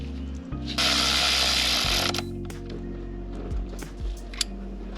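A power tool whirs in one short burst of about a second as a tensioner pulley is fastened back onto a BMW X5 4.8i (E70) engine during alternator replacement, followed by quieter clicks and mechanical handling nearby.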